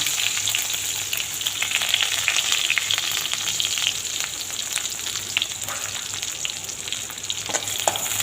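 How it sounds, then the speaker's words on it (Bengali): Chopped garlic and onion, with lentils as tempering, frying steadily in hot mustard oil in a wok, giving a continuous close sizzle with faint stirring scrapes throughout, no voices. "ভালো করিয়া পেঁয়াজটা ভাজা ভাজা হোক।"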